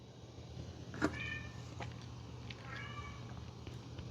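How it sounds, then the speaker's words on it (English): A pet cat meows a few times indoors, one sharper call followed by a softer, drawn-out meow a couple of seconds later, faint against a quiet room hum. "You can probably hear my cat."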